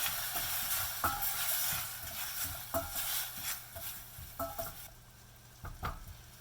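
Spoon stirring roughly crushed garlic in a pan of Kerala-style rasam, soft scraping strokes with a few light clinks of utensil on metal over a faint background hiss.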